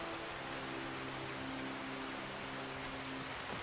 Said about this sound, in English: This rain is really not helping with being able to see either.